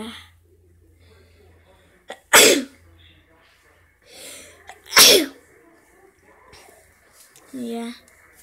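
Two sharp, loud sneezes a few seconds apart stand out over a quiet room, with a softer breathy sound and brief talk near the end.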